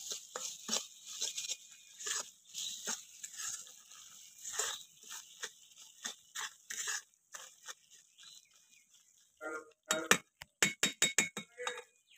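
A metal spatula stirs sugar syrup as it turns to caramel in a pan, making faint intermittent scrapes and light taps, then a closing burst of sharper quick metallic clinks.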